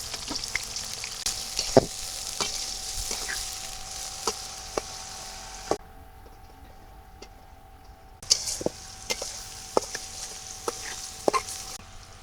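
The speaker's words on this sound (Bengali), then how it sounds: "পেঁয়াজ রসুনের সাথে আমি ডালগুলো বাজিয়ে নিব" Lentils fry in hot oil with chopped onion and garlic, a continuous close sizzle broken by sharp clicks of a spoon against the pan, with a short quieter pause partway through.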